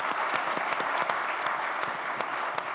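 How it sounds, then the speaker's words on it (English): A crowd at a family tech summit during CES 2016 applauds steadily, a dense even wash of many hands clapping with a few sharper claps poking through, sustained and moderately loud throughout. "Let's give them a round of applause."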